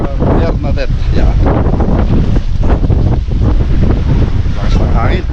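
Strong wind roars at the seaside in Damortis, La Union, buffeting the microphone in loud, constant gusts, with people talking underneath.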